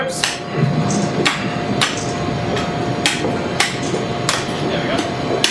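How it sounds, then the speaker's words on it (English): Repeated heavy cleaver blows chop down along pig ribs at a butchery demonstration, sharp thwacks landing roughly every half second to second over a steady room hum. "now I just have to cleave it down along the ribs"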